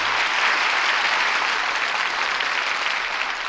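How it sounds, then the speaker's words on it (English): Sustained, even studio audience applause at the close of a Lux Radio Theatre broadcast, dense clapping filling the room with no talk over it. "That applause says it all."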